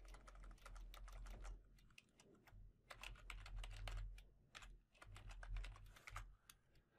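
Rapid, irregular keystrokes on a computer keyboard while entering code, clicks in quick clusters with short gaps, close-up and fairly quiet, no voices.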